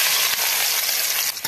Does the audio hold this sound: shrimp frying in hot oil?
yes